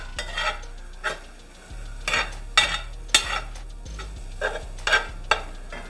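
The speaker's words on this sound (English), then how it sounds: "The vegetables are getting cooked." Chopped gumbo vegetables are stirred in a hot cast iron pot, with a spoon scraping the bottom in repeated short strokes over a soft, steady sizzle.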